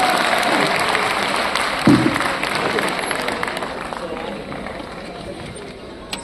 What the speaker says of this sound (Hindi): मेरे स्वागत में जोरदार तालियां बजती हैं।